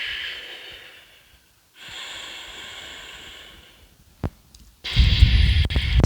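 During a stretching exercise, a person exhales in long, breathy hisses, first a fading breath, then a pause, then another steady exhale, a brief sharp snort and a final louder, rougher rush of air.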